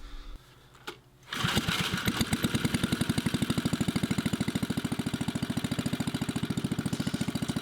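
A 3HP rototiller engine belts a car alternator as a homemade generator, starting up after a second of quiet and then running at a steady, loud, rapid chugging idle close by.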